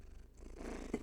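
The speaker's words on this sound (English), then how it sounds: "Get some purrs?" A cat purrs softly and close by, a faint low rumbling with a few slightly louder pulses near the end and no talking.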